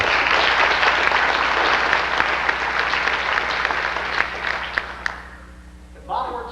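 An audience in a church claps loudly for several seconds, then the applause thins out and fades, with a few last scattered claps.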